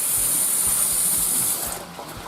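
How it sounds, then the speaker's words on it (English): Very hot tap water runs steadily over fingers, rinsing off raw chicken while cooking paprikash. It makes a close, continuous hiss that eases slightly toward the end. "rinse all of that raw chicken off my fingers with some very hot water"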